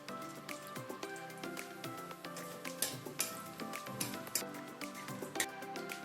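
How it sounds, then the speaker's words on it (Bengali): Whole cumin, black mustard seeds and two dried chillies sizzling in hot oil, a steady close crackle with scattered sharp pops and spits throughout, with no talk. "তেল গরম হয়ে গেলে এতে ফোড়নের জন্য দিয়ে দিচ্ছে হাফ টিস্পুন গোটা জিরে, হাফ টিস্পুন কালো সর্ষে আর দুটো গোটা শুকনো লঙ্কা।"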